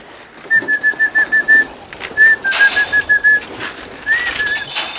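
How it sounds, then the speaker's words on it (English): Birds being fed, with pigeons or doves giving rhythmic cooing or whistling calls in three repeated bursts of quick pulsed notes, close and clear over a quiet background. "The birds here, this is their third feeding today."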